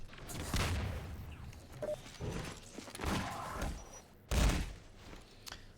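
Magnum gunfire in a Half-Life 2 Deathmatch video game: several loud, close booming shots with an uneven rhythm, each followed by noisy decay.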